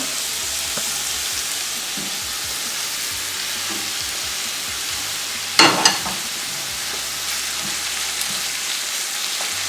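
Poha (flattened rice) sizzles steadily in a hot pan, a continuous frying hiss, with one sharp scraping clatter of stirring partway through.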